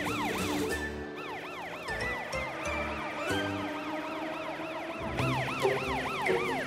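A cartoon police car siren in the children's animation Car City wails in fast, repeating up-and-down sweeps that stay loud and continuous, with some low tones beneath.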